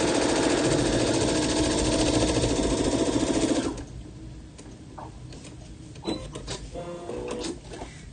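A sewing machine stitching a shirt placket runs fast and loud with a rapid rhythmic clatter for several seconds, then stops, leaving quieter handling noises and light clicks.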